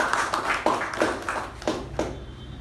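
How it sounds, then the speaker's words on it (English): Round of applause from an audience at a club meeting, a burst of claps and taps in uneven rhythm, moderately close, with no talking over it. "Can we have a huge round of applause for this?"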